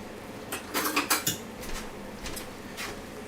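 Fork and cutlery clattering against dishes while cooking in a kitchen, a cluster of sharp metallic clinks and scrapes early on followed by a few quieter rattles, close by.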